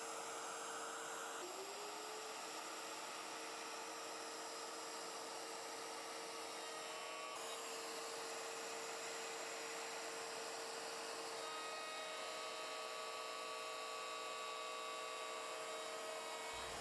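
A router with its base on a jig trims a wooden bow tie inlay flush in several passes, giving a continuous high, steady motor whine that holds nearly unchanged throughout, close and loud, with no talking.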